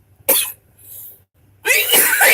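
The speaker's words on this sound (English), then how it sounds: "It's just all the mucus and the congestion and the coughing" Two bursts of congested, mucus-laden coughing separated by a short pause, the second longer and harsher, close and fairly loud.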